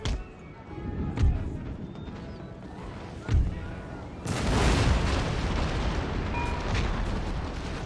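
Artillery firing at a fort in the video game Empire: Total War, several deep booming cannon shots at intervals, then a heavier sustained volley of blasts and rumble.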